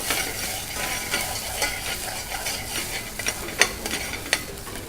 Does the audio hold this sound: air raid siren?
no